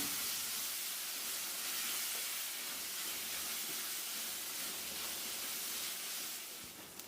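Chopped tomatoes sauté in a pan for a Kerala tomato buttermilk curry made without coconut. A faint, steady sizzling hiss continues throughout and eases slightly at the end.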